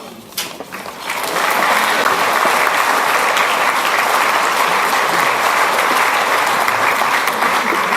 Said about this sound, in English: I think we need a much bigger round of applause for Anna Louise.